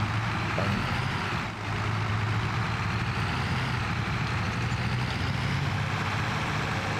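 Steady tractor engine idling in Farming Simulator 22, a continuous low diesel rumble holding near and even for the whole stretch with a brief dip early on, no voices over it.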